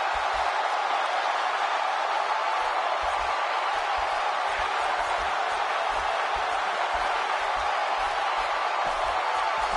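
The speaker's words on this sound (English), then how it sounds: "When you listen to this crowd, they're absolutely electric." Arena crowd in the WWE 2K17 video game at a Hell in the Cell match between Shane and Owens in Los Angeles, a dense, steady roar of cheering that runs continuously and loudly throughout.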